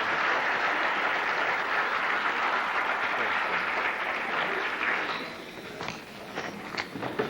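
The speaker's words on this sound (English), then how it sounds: "Are you applauding because you're not in class?" An audience at a talk by educator Alan November breaks into sustained, loud applause that gradually thins out into a few scattered claps and shuffling near the end.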